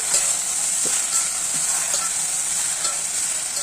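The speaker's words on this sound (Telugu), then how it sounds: "పొయ్యి మీద ఒక గిన్నె పెట్టుకొని కొంచెం ఆయిల్ వేసి దాని లోపల గోంగూర వేసుకోవాలి" Gongura leaves frying in a little oil in a pot on the stove make a loud, continuous close-up sizzle with a few faint stirring knocks, steady throughout and without speech.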